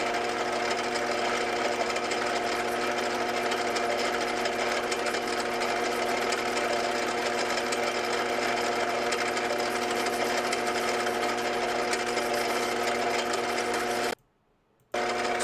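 Lathe running steadily during someone's first manual attempt at turning, a constant mechanical hum with a fine rapid rattle that goes on unbroken and then cuts out abruptly just before the end.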